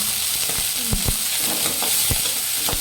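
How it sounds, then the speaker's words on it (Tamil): Onions, green chillies and curry leaves fry in a pan, giving a constant crackling sizzle with a few knocks and scrapes from stirring, close by and without speech. "பச்சை மிளகாய், பச்சை மிளகா, கருவேப்பிலை போட்டாச்சு. நல்லா வதங்கட்டும்."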